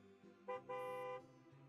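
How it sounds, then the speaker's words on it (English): A jeep horn honks twice in quick succession, a short toot followed by a longer, steady blast, loud and close against a quiet background. "The jeep honks again."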